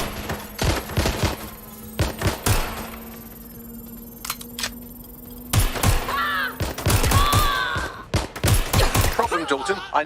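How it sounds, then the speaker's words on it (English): Gunfire in the Watch Dogs: Legion video game: a string of sharp, loud shots in uneven bursts across the span, some clustered rapidly, with electronic game tones and chirps mixed in. "Target is firing."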